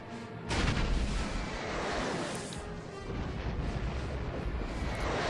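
A starship exploding in Star Wars Knights of the Old Republic, a sudden loud blast followed by a sustained, dense roaring rumble of fire and debris that continues steadily without speech.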